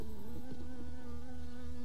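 A wasp caught inside a carnivorous pitcher plant buzzes its wings steadily and close, a continuous droning hum with slight pitch wavering, heard alone without voices.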